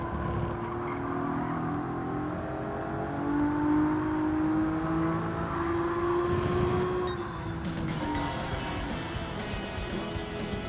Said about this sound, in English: we are on the back straight of Child Mountain with the Toyota GR86, and we are fast approaching a hard braking zone